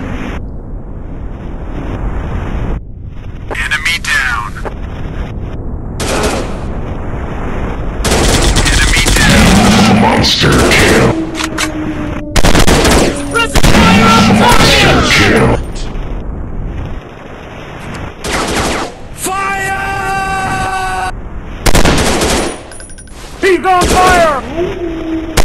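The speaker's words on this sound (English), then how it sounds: "I'm shooting these fools up!" Automatic weapons fire in the shooting game Real Commando Shooting 3D, on a city level. Loud, dense bursts and rattling volleys come in waves, broken by short pauses and a shouting voice.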